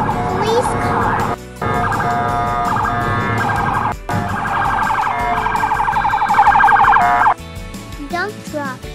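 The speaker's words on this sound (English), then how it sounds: "Police car." A police car siren wails loudly and close, rising and falling in repeated cycles with a few brief cut-off gaps, and a voice briefly names the vehicle over it.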